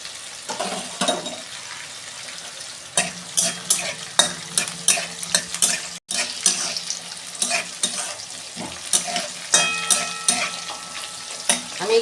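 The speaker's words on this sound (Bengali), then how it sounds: "এই কাজু কিশমিশটা আমি একটু ভেজে নেবো" Cashews and raisins frying in a hot pan, a steady sizzle broken by repeated scraping stir strokes, close and fairly loud with no talking.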